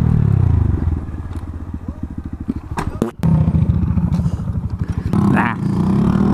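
A motorcycle with a newly fixed clutch is ridden for a wheelie attempt. The engine throbs loudly close up with rapid pulsing that rises and falls, broken by a brief thump and scrape midway.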